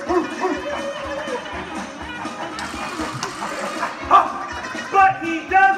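A dog chasing a pig lets out several sharp barks and yips, louder toward the end, over an engine-like hum and a person talking.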